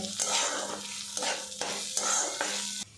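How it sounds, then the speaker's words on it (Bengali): Ginger paste frying in a pan hisses loudly while a spatula scrapes through it in regular strokes about every half second, close and unaccompanied by talk. "আদা বাটা দিয়েছি একটু নাড়াচাড়া করে নেব"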